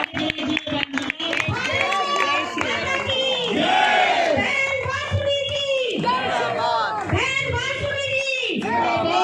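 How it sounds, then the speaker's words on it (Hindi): A crowd at an election office opening in Patel Nagar, New Delhi, claps and cheers loudly in repeated swelling bursts, with shouted slogans and a voice calling over them. "मेरे पास तालियों से स्वागत कीजिए बहन जी का।"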